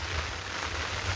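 Steady rain pours down in an even, close hiss on a wet morning, with no voices and no breaks.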